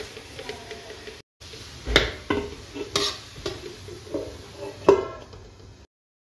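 Vegetables for tawa pulao frying on a tawa, with a low sizzle under repeated close scraping and stirring strokes, a few sharp metallic knocks, and a brief gap before the sound cuts out near the end.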